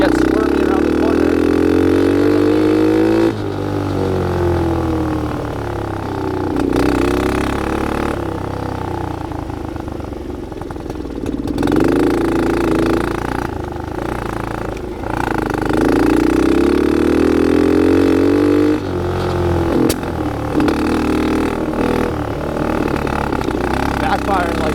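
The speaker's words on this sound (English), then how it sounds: "Backfiring like crazy" Dirt bike riding through snow, engine droning and revving in repeated rising surges with sharp popping backfires, loud and close.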